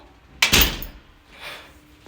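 A door in a home is shut with a single sharp close, followed by a fainter thud or rustle a moment later, with no talking over it.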